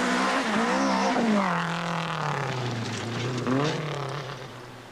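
A rally car, car 59 on day 3 of the 1984 Sanyo Rally in New Zealand, revs hard with its engine note climbing and sweeping through gears, a close, strained drone that fades slightly at the end.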